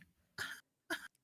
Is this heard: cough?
yes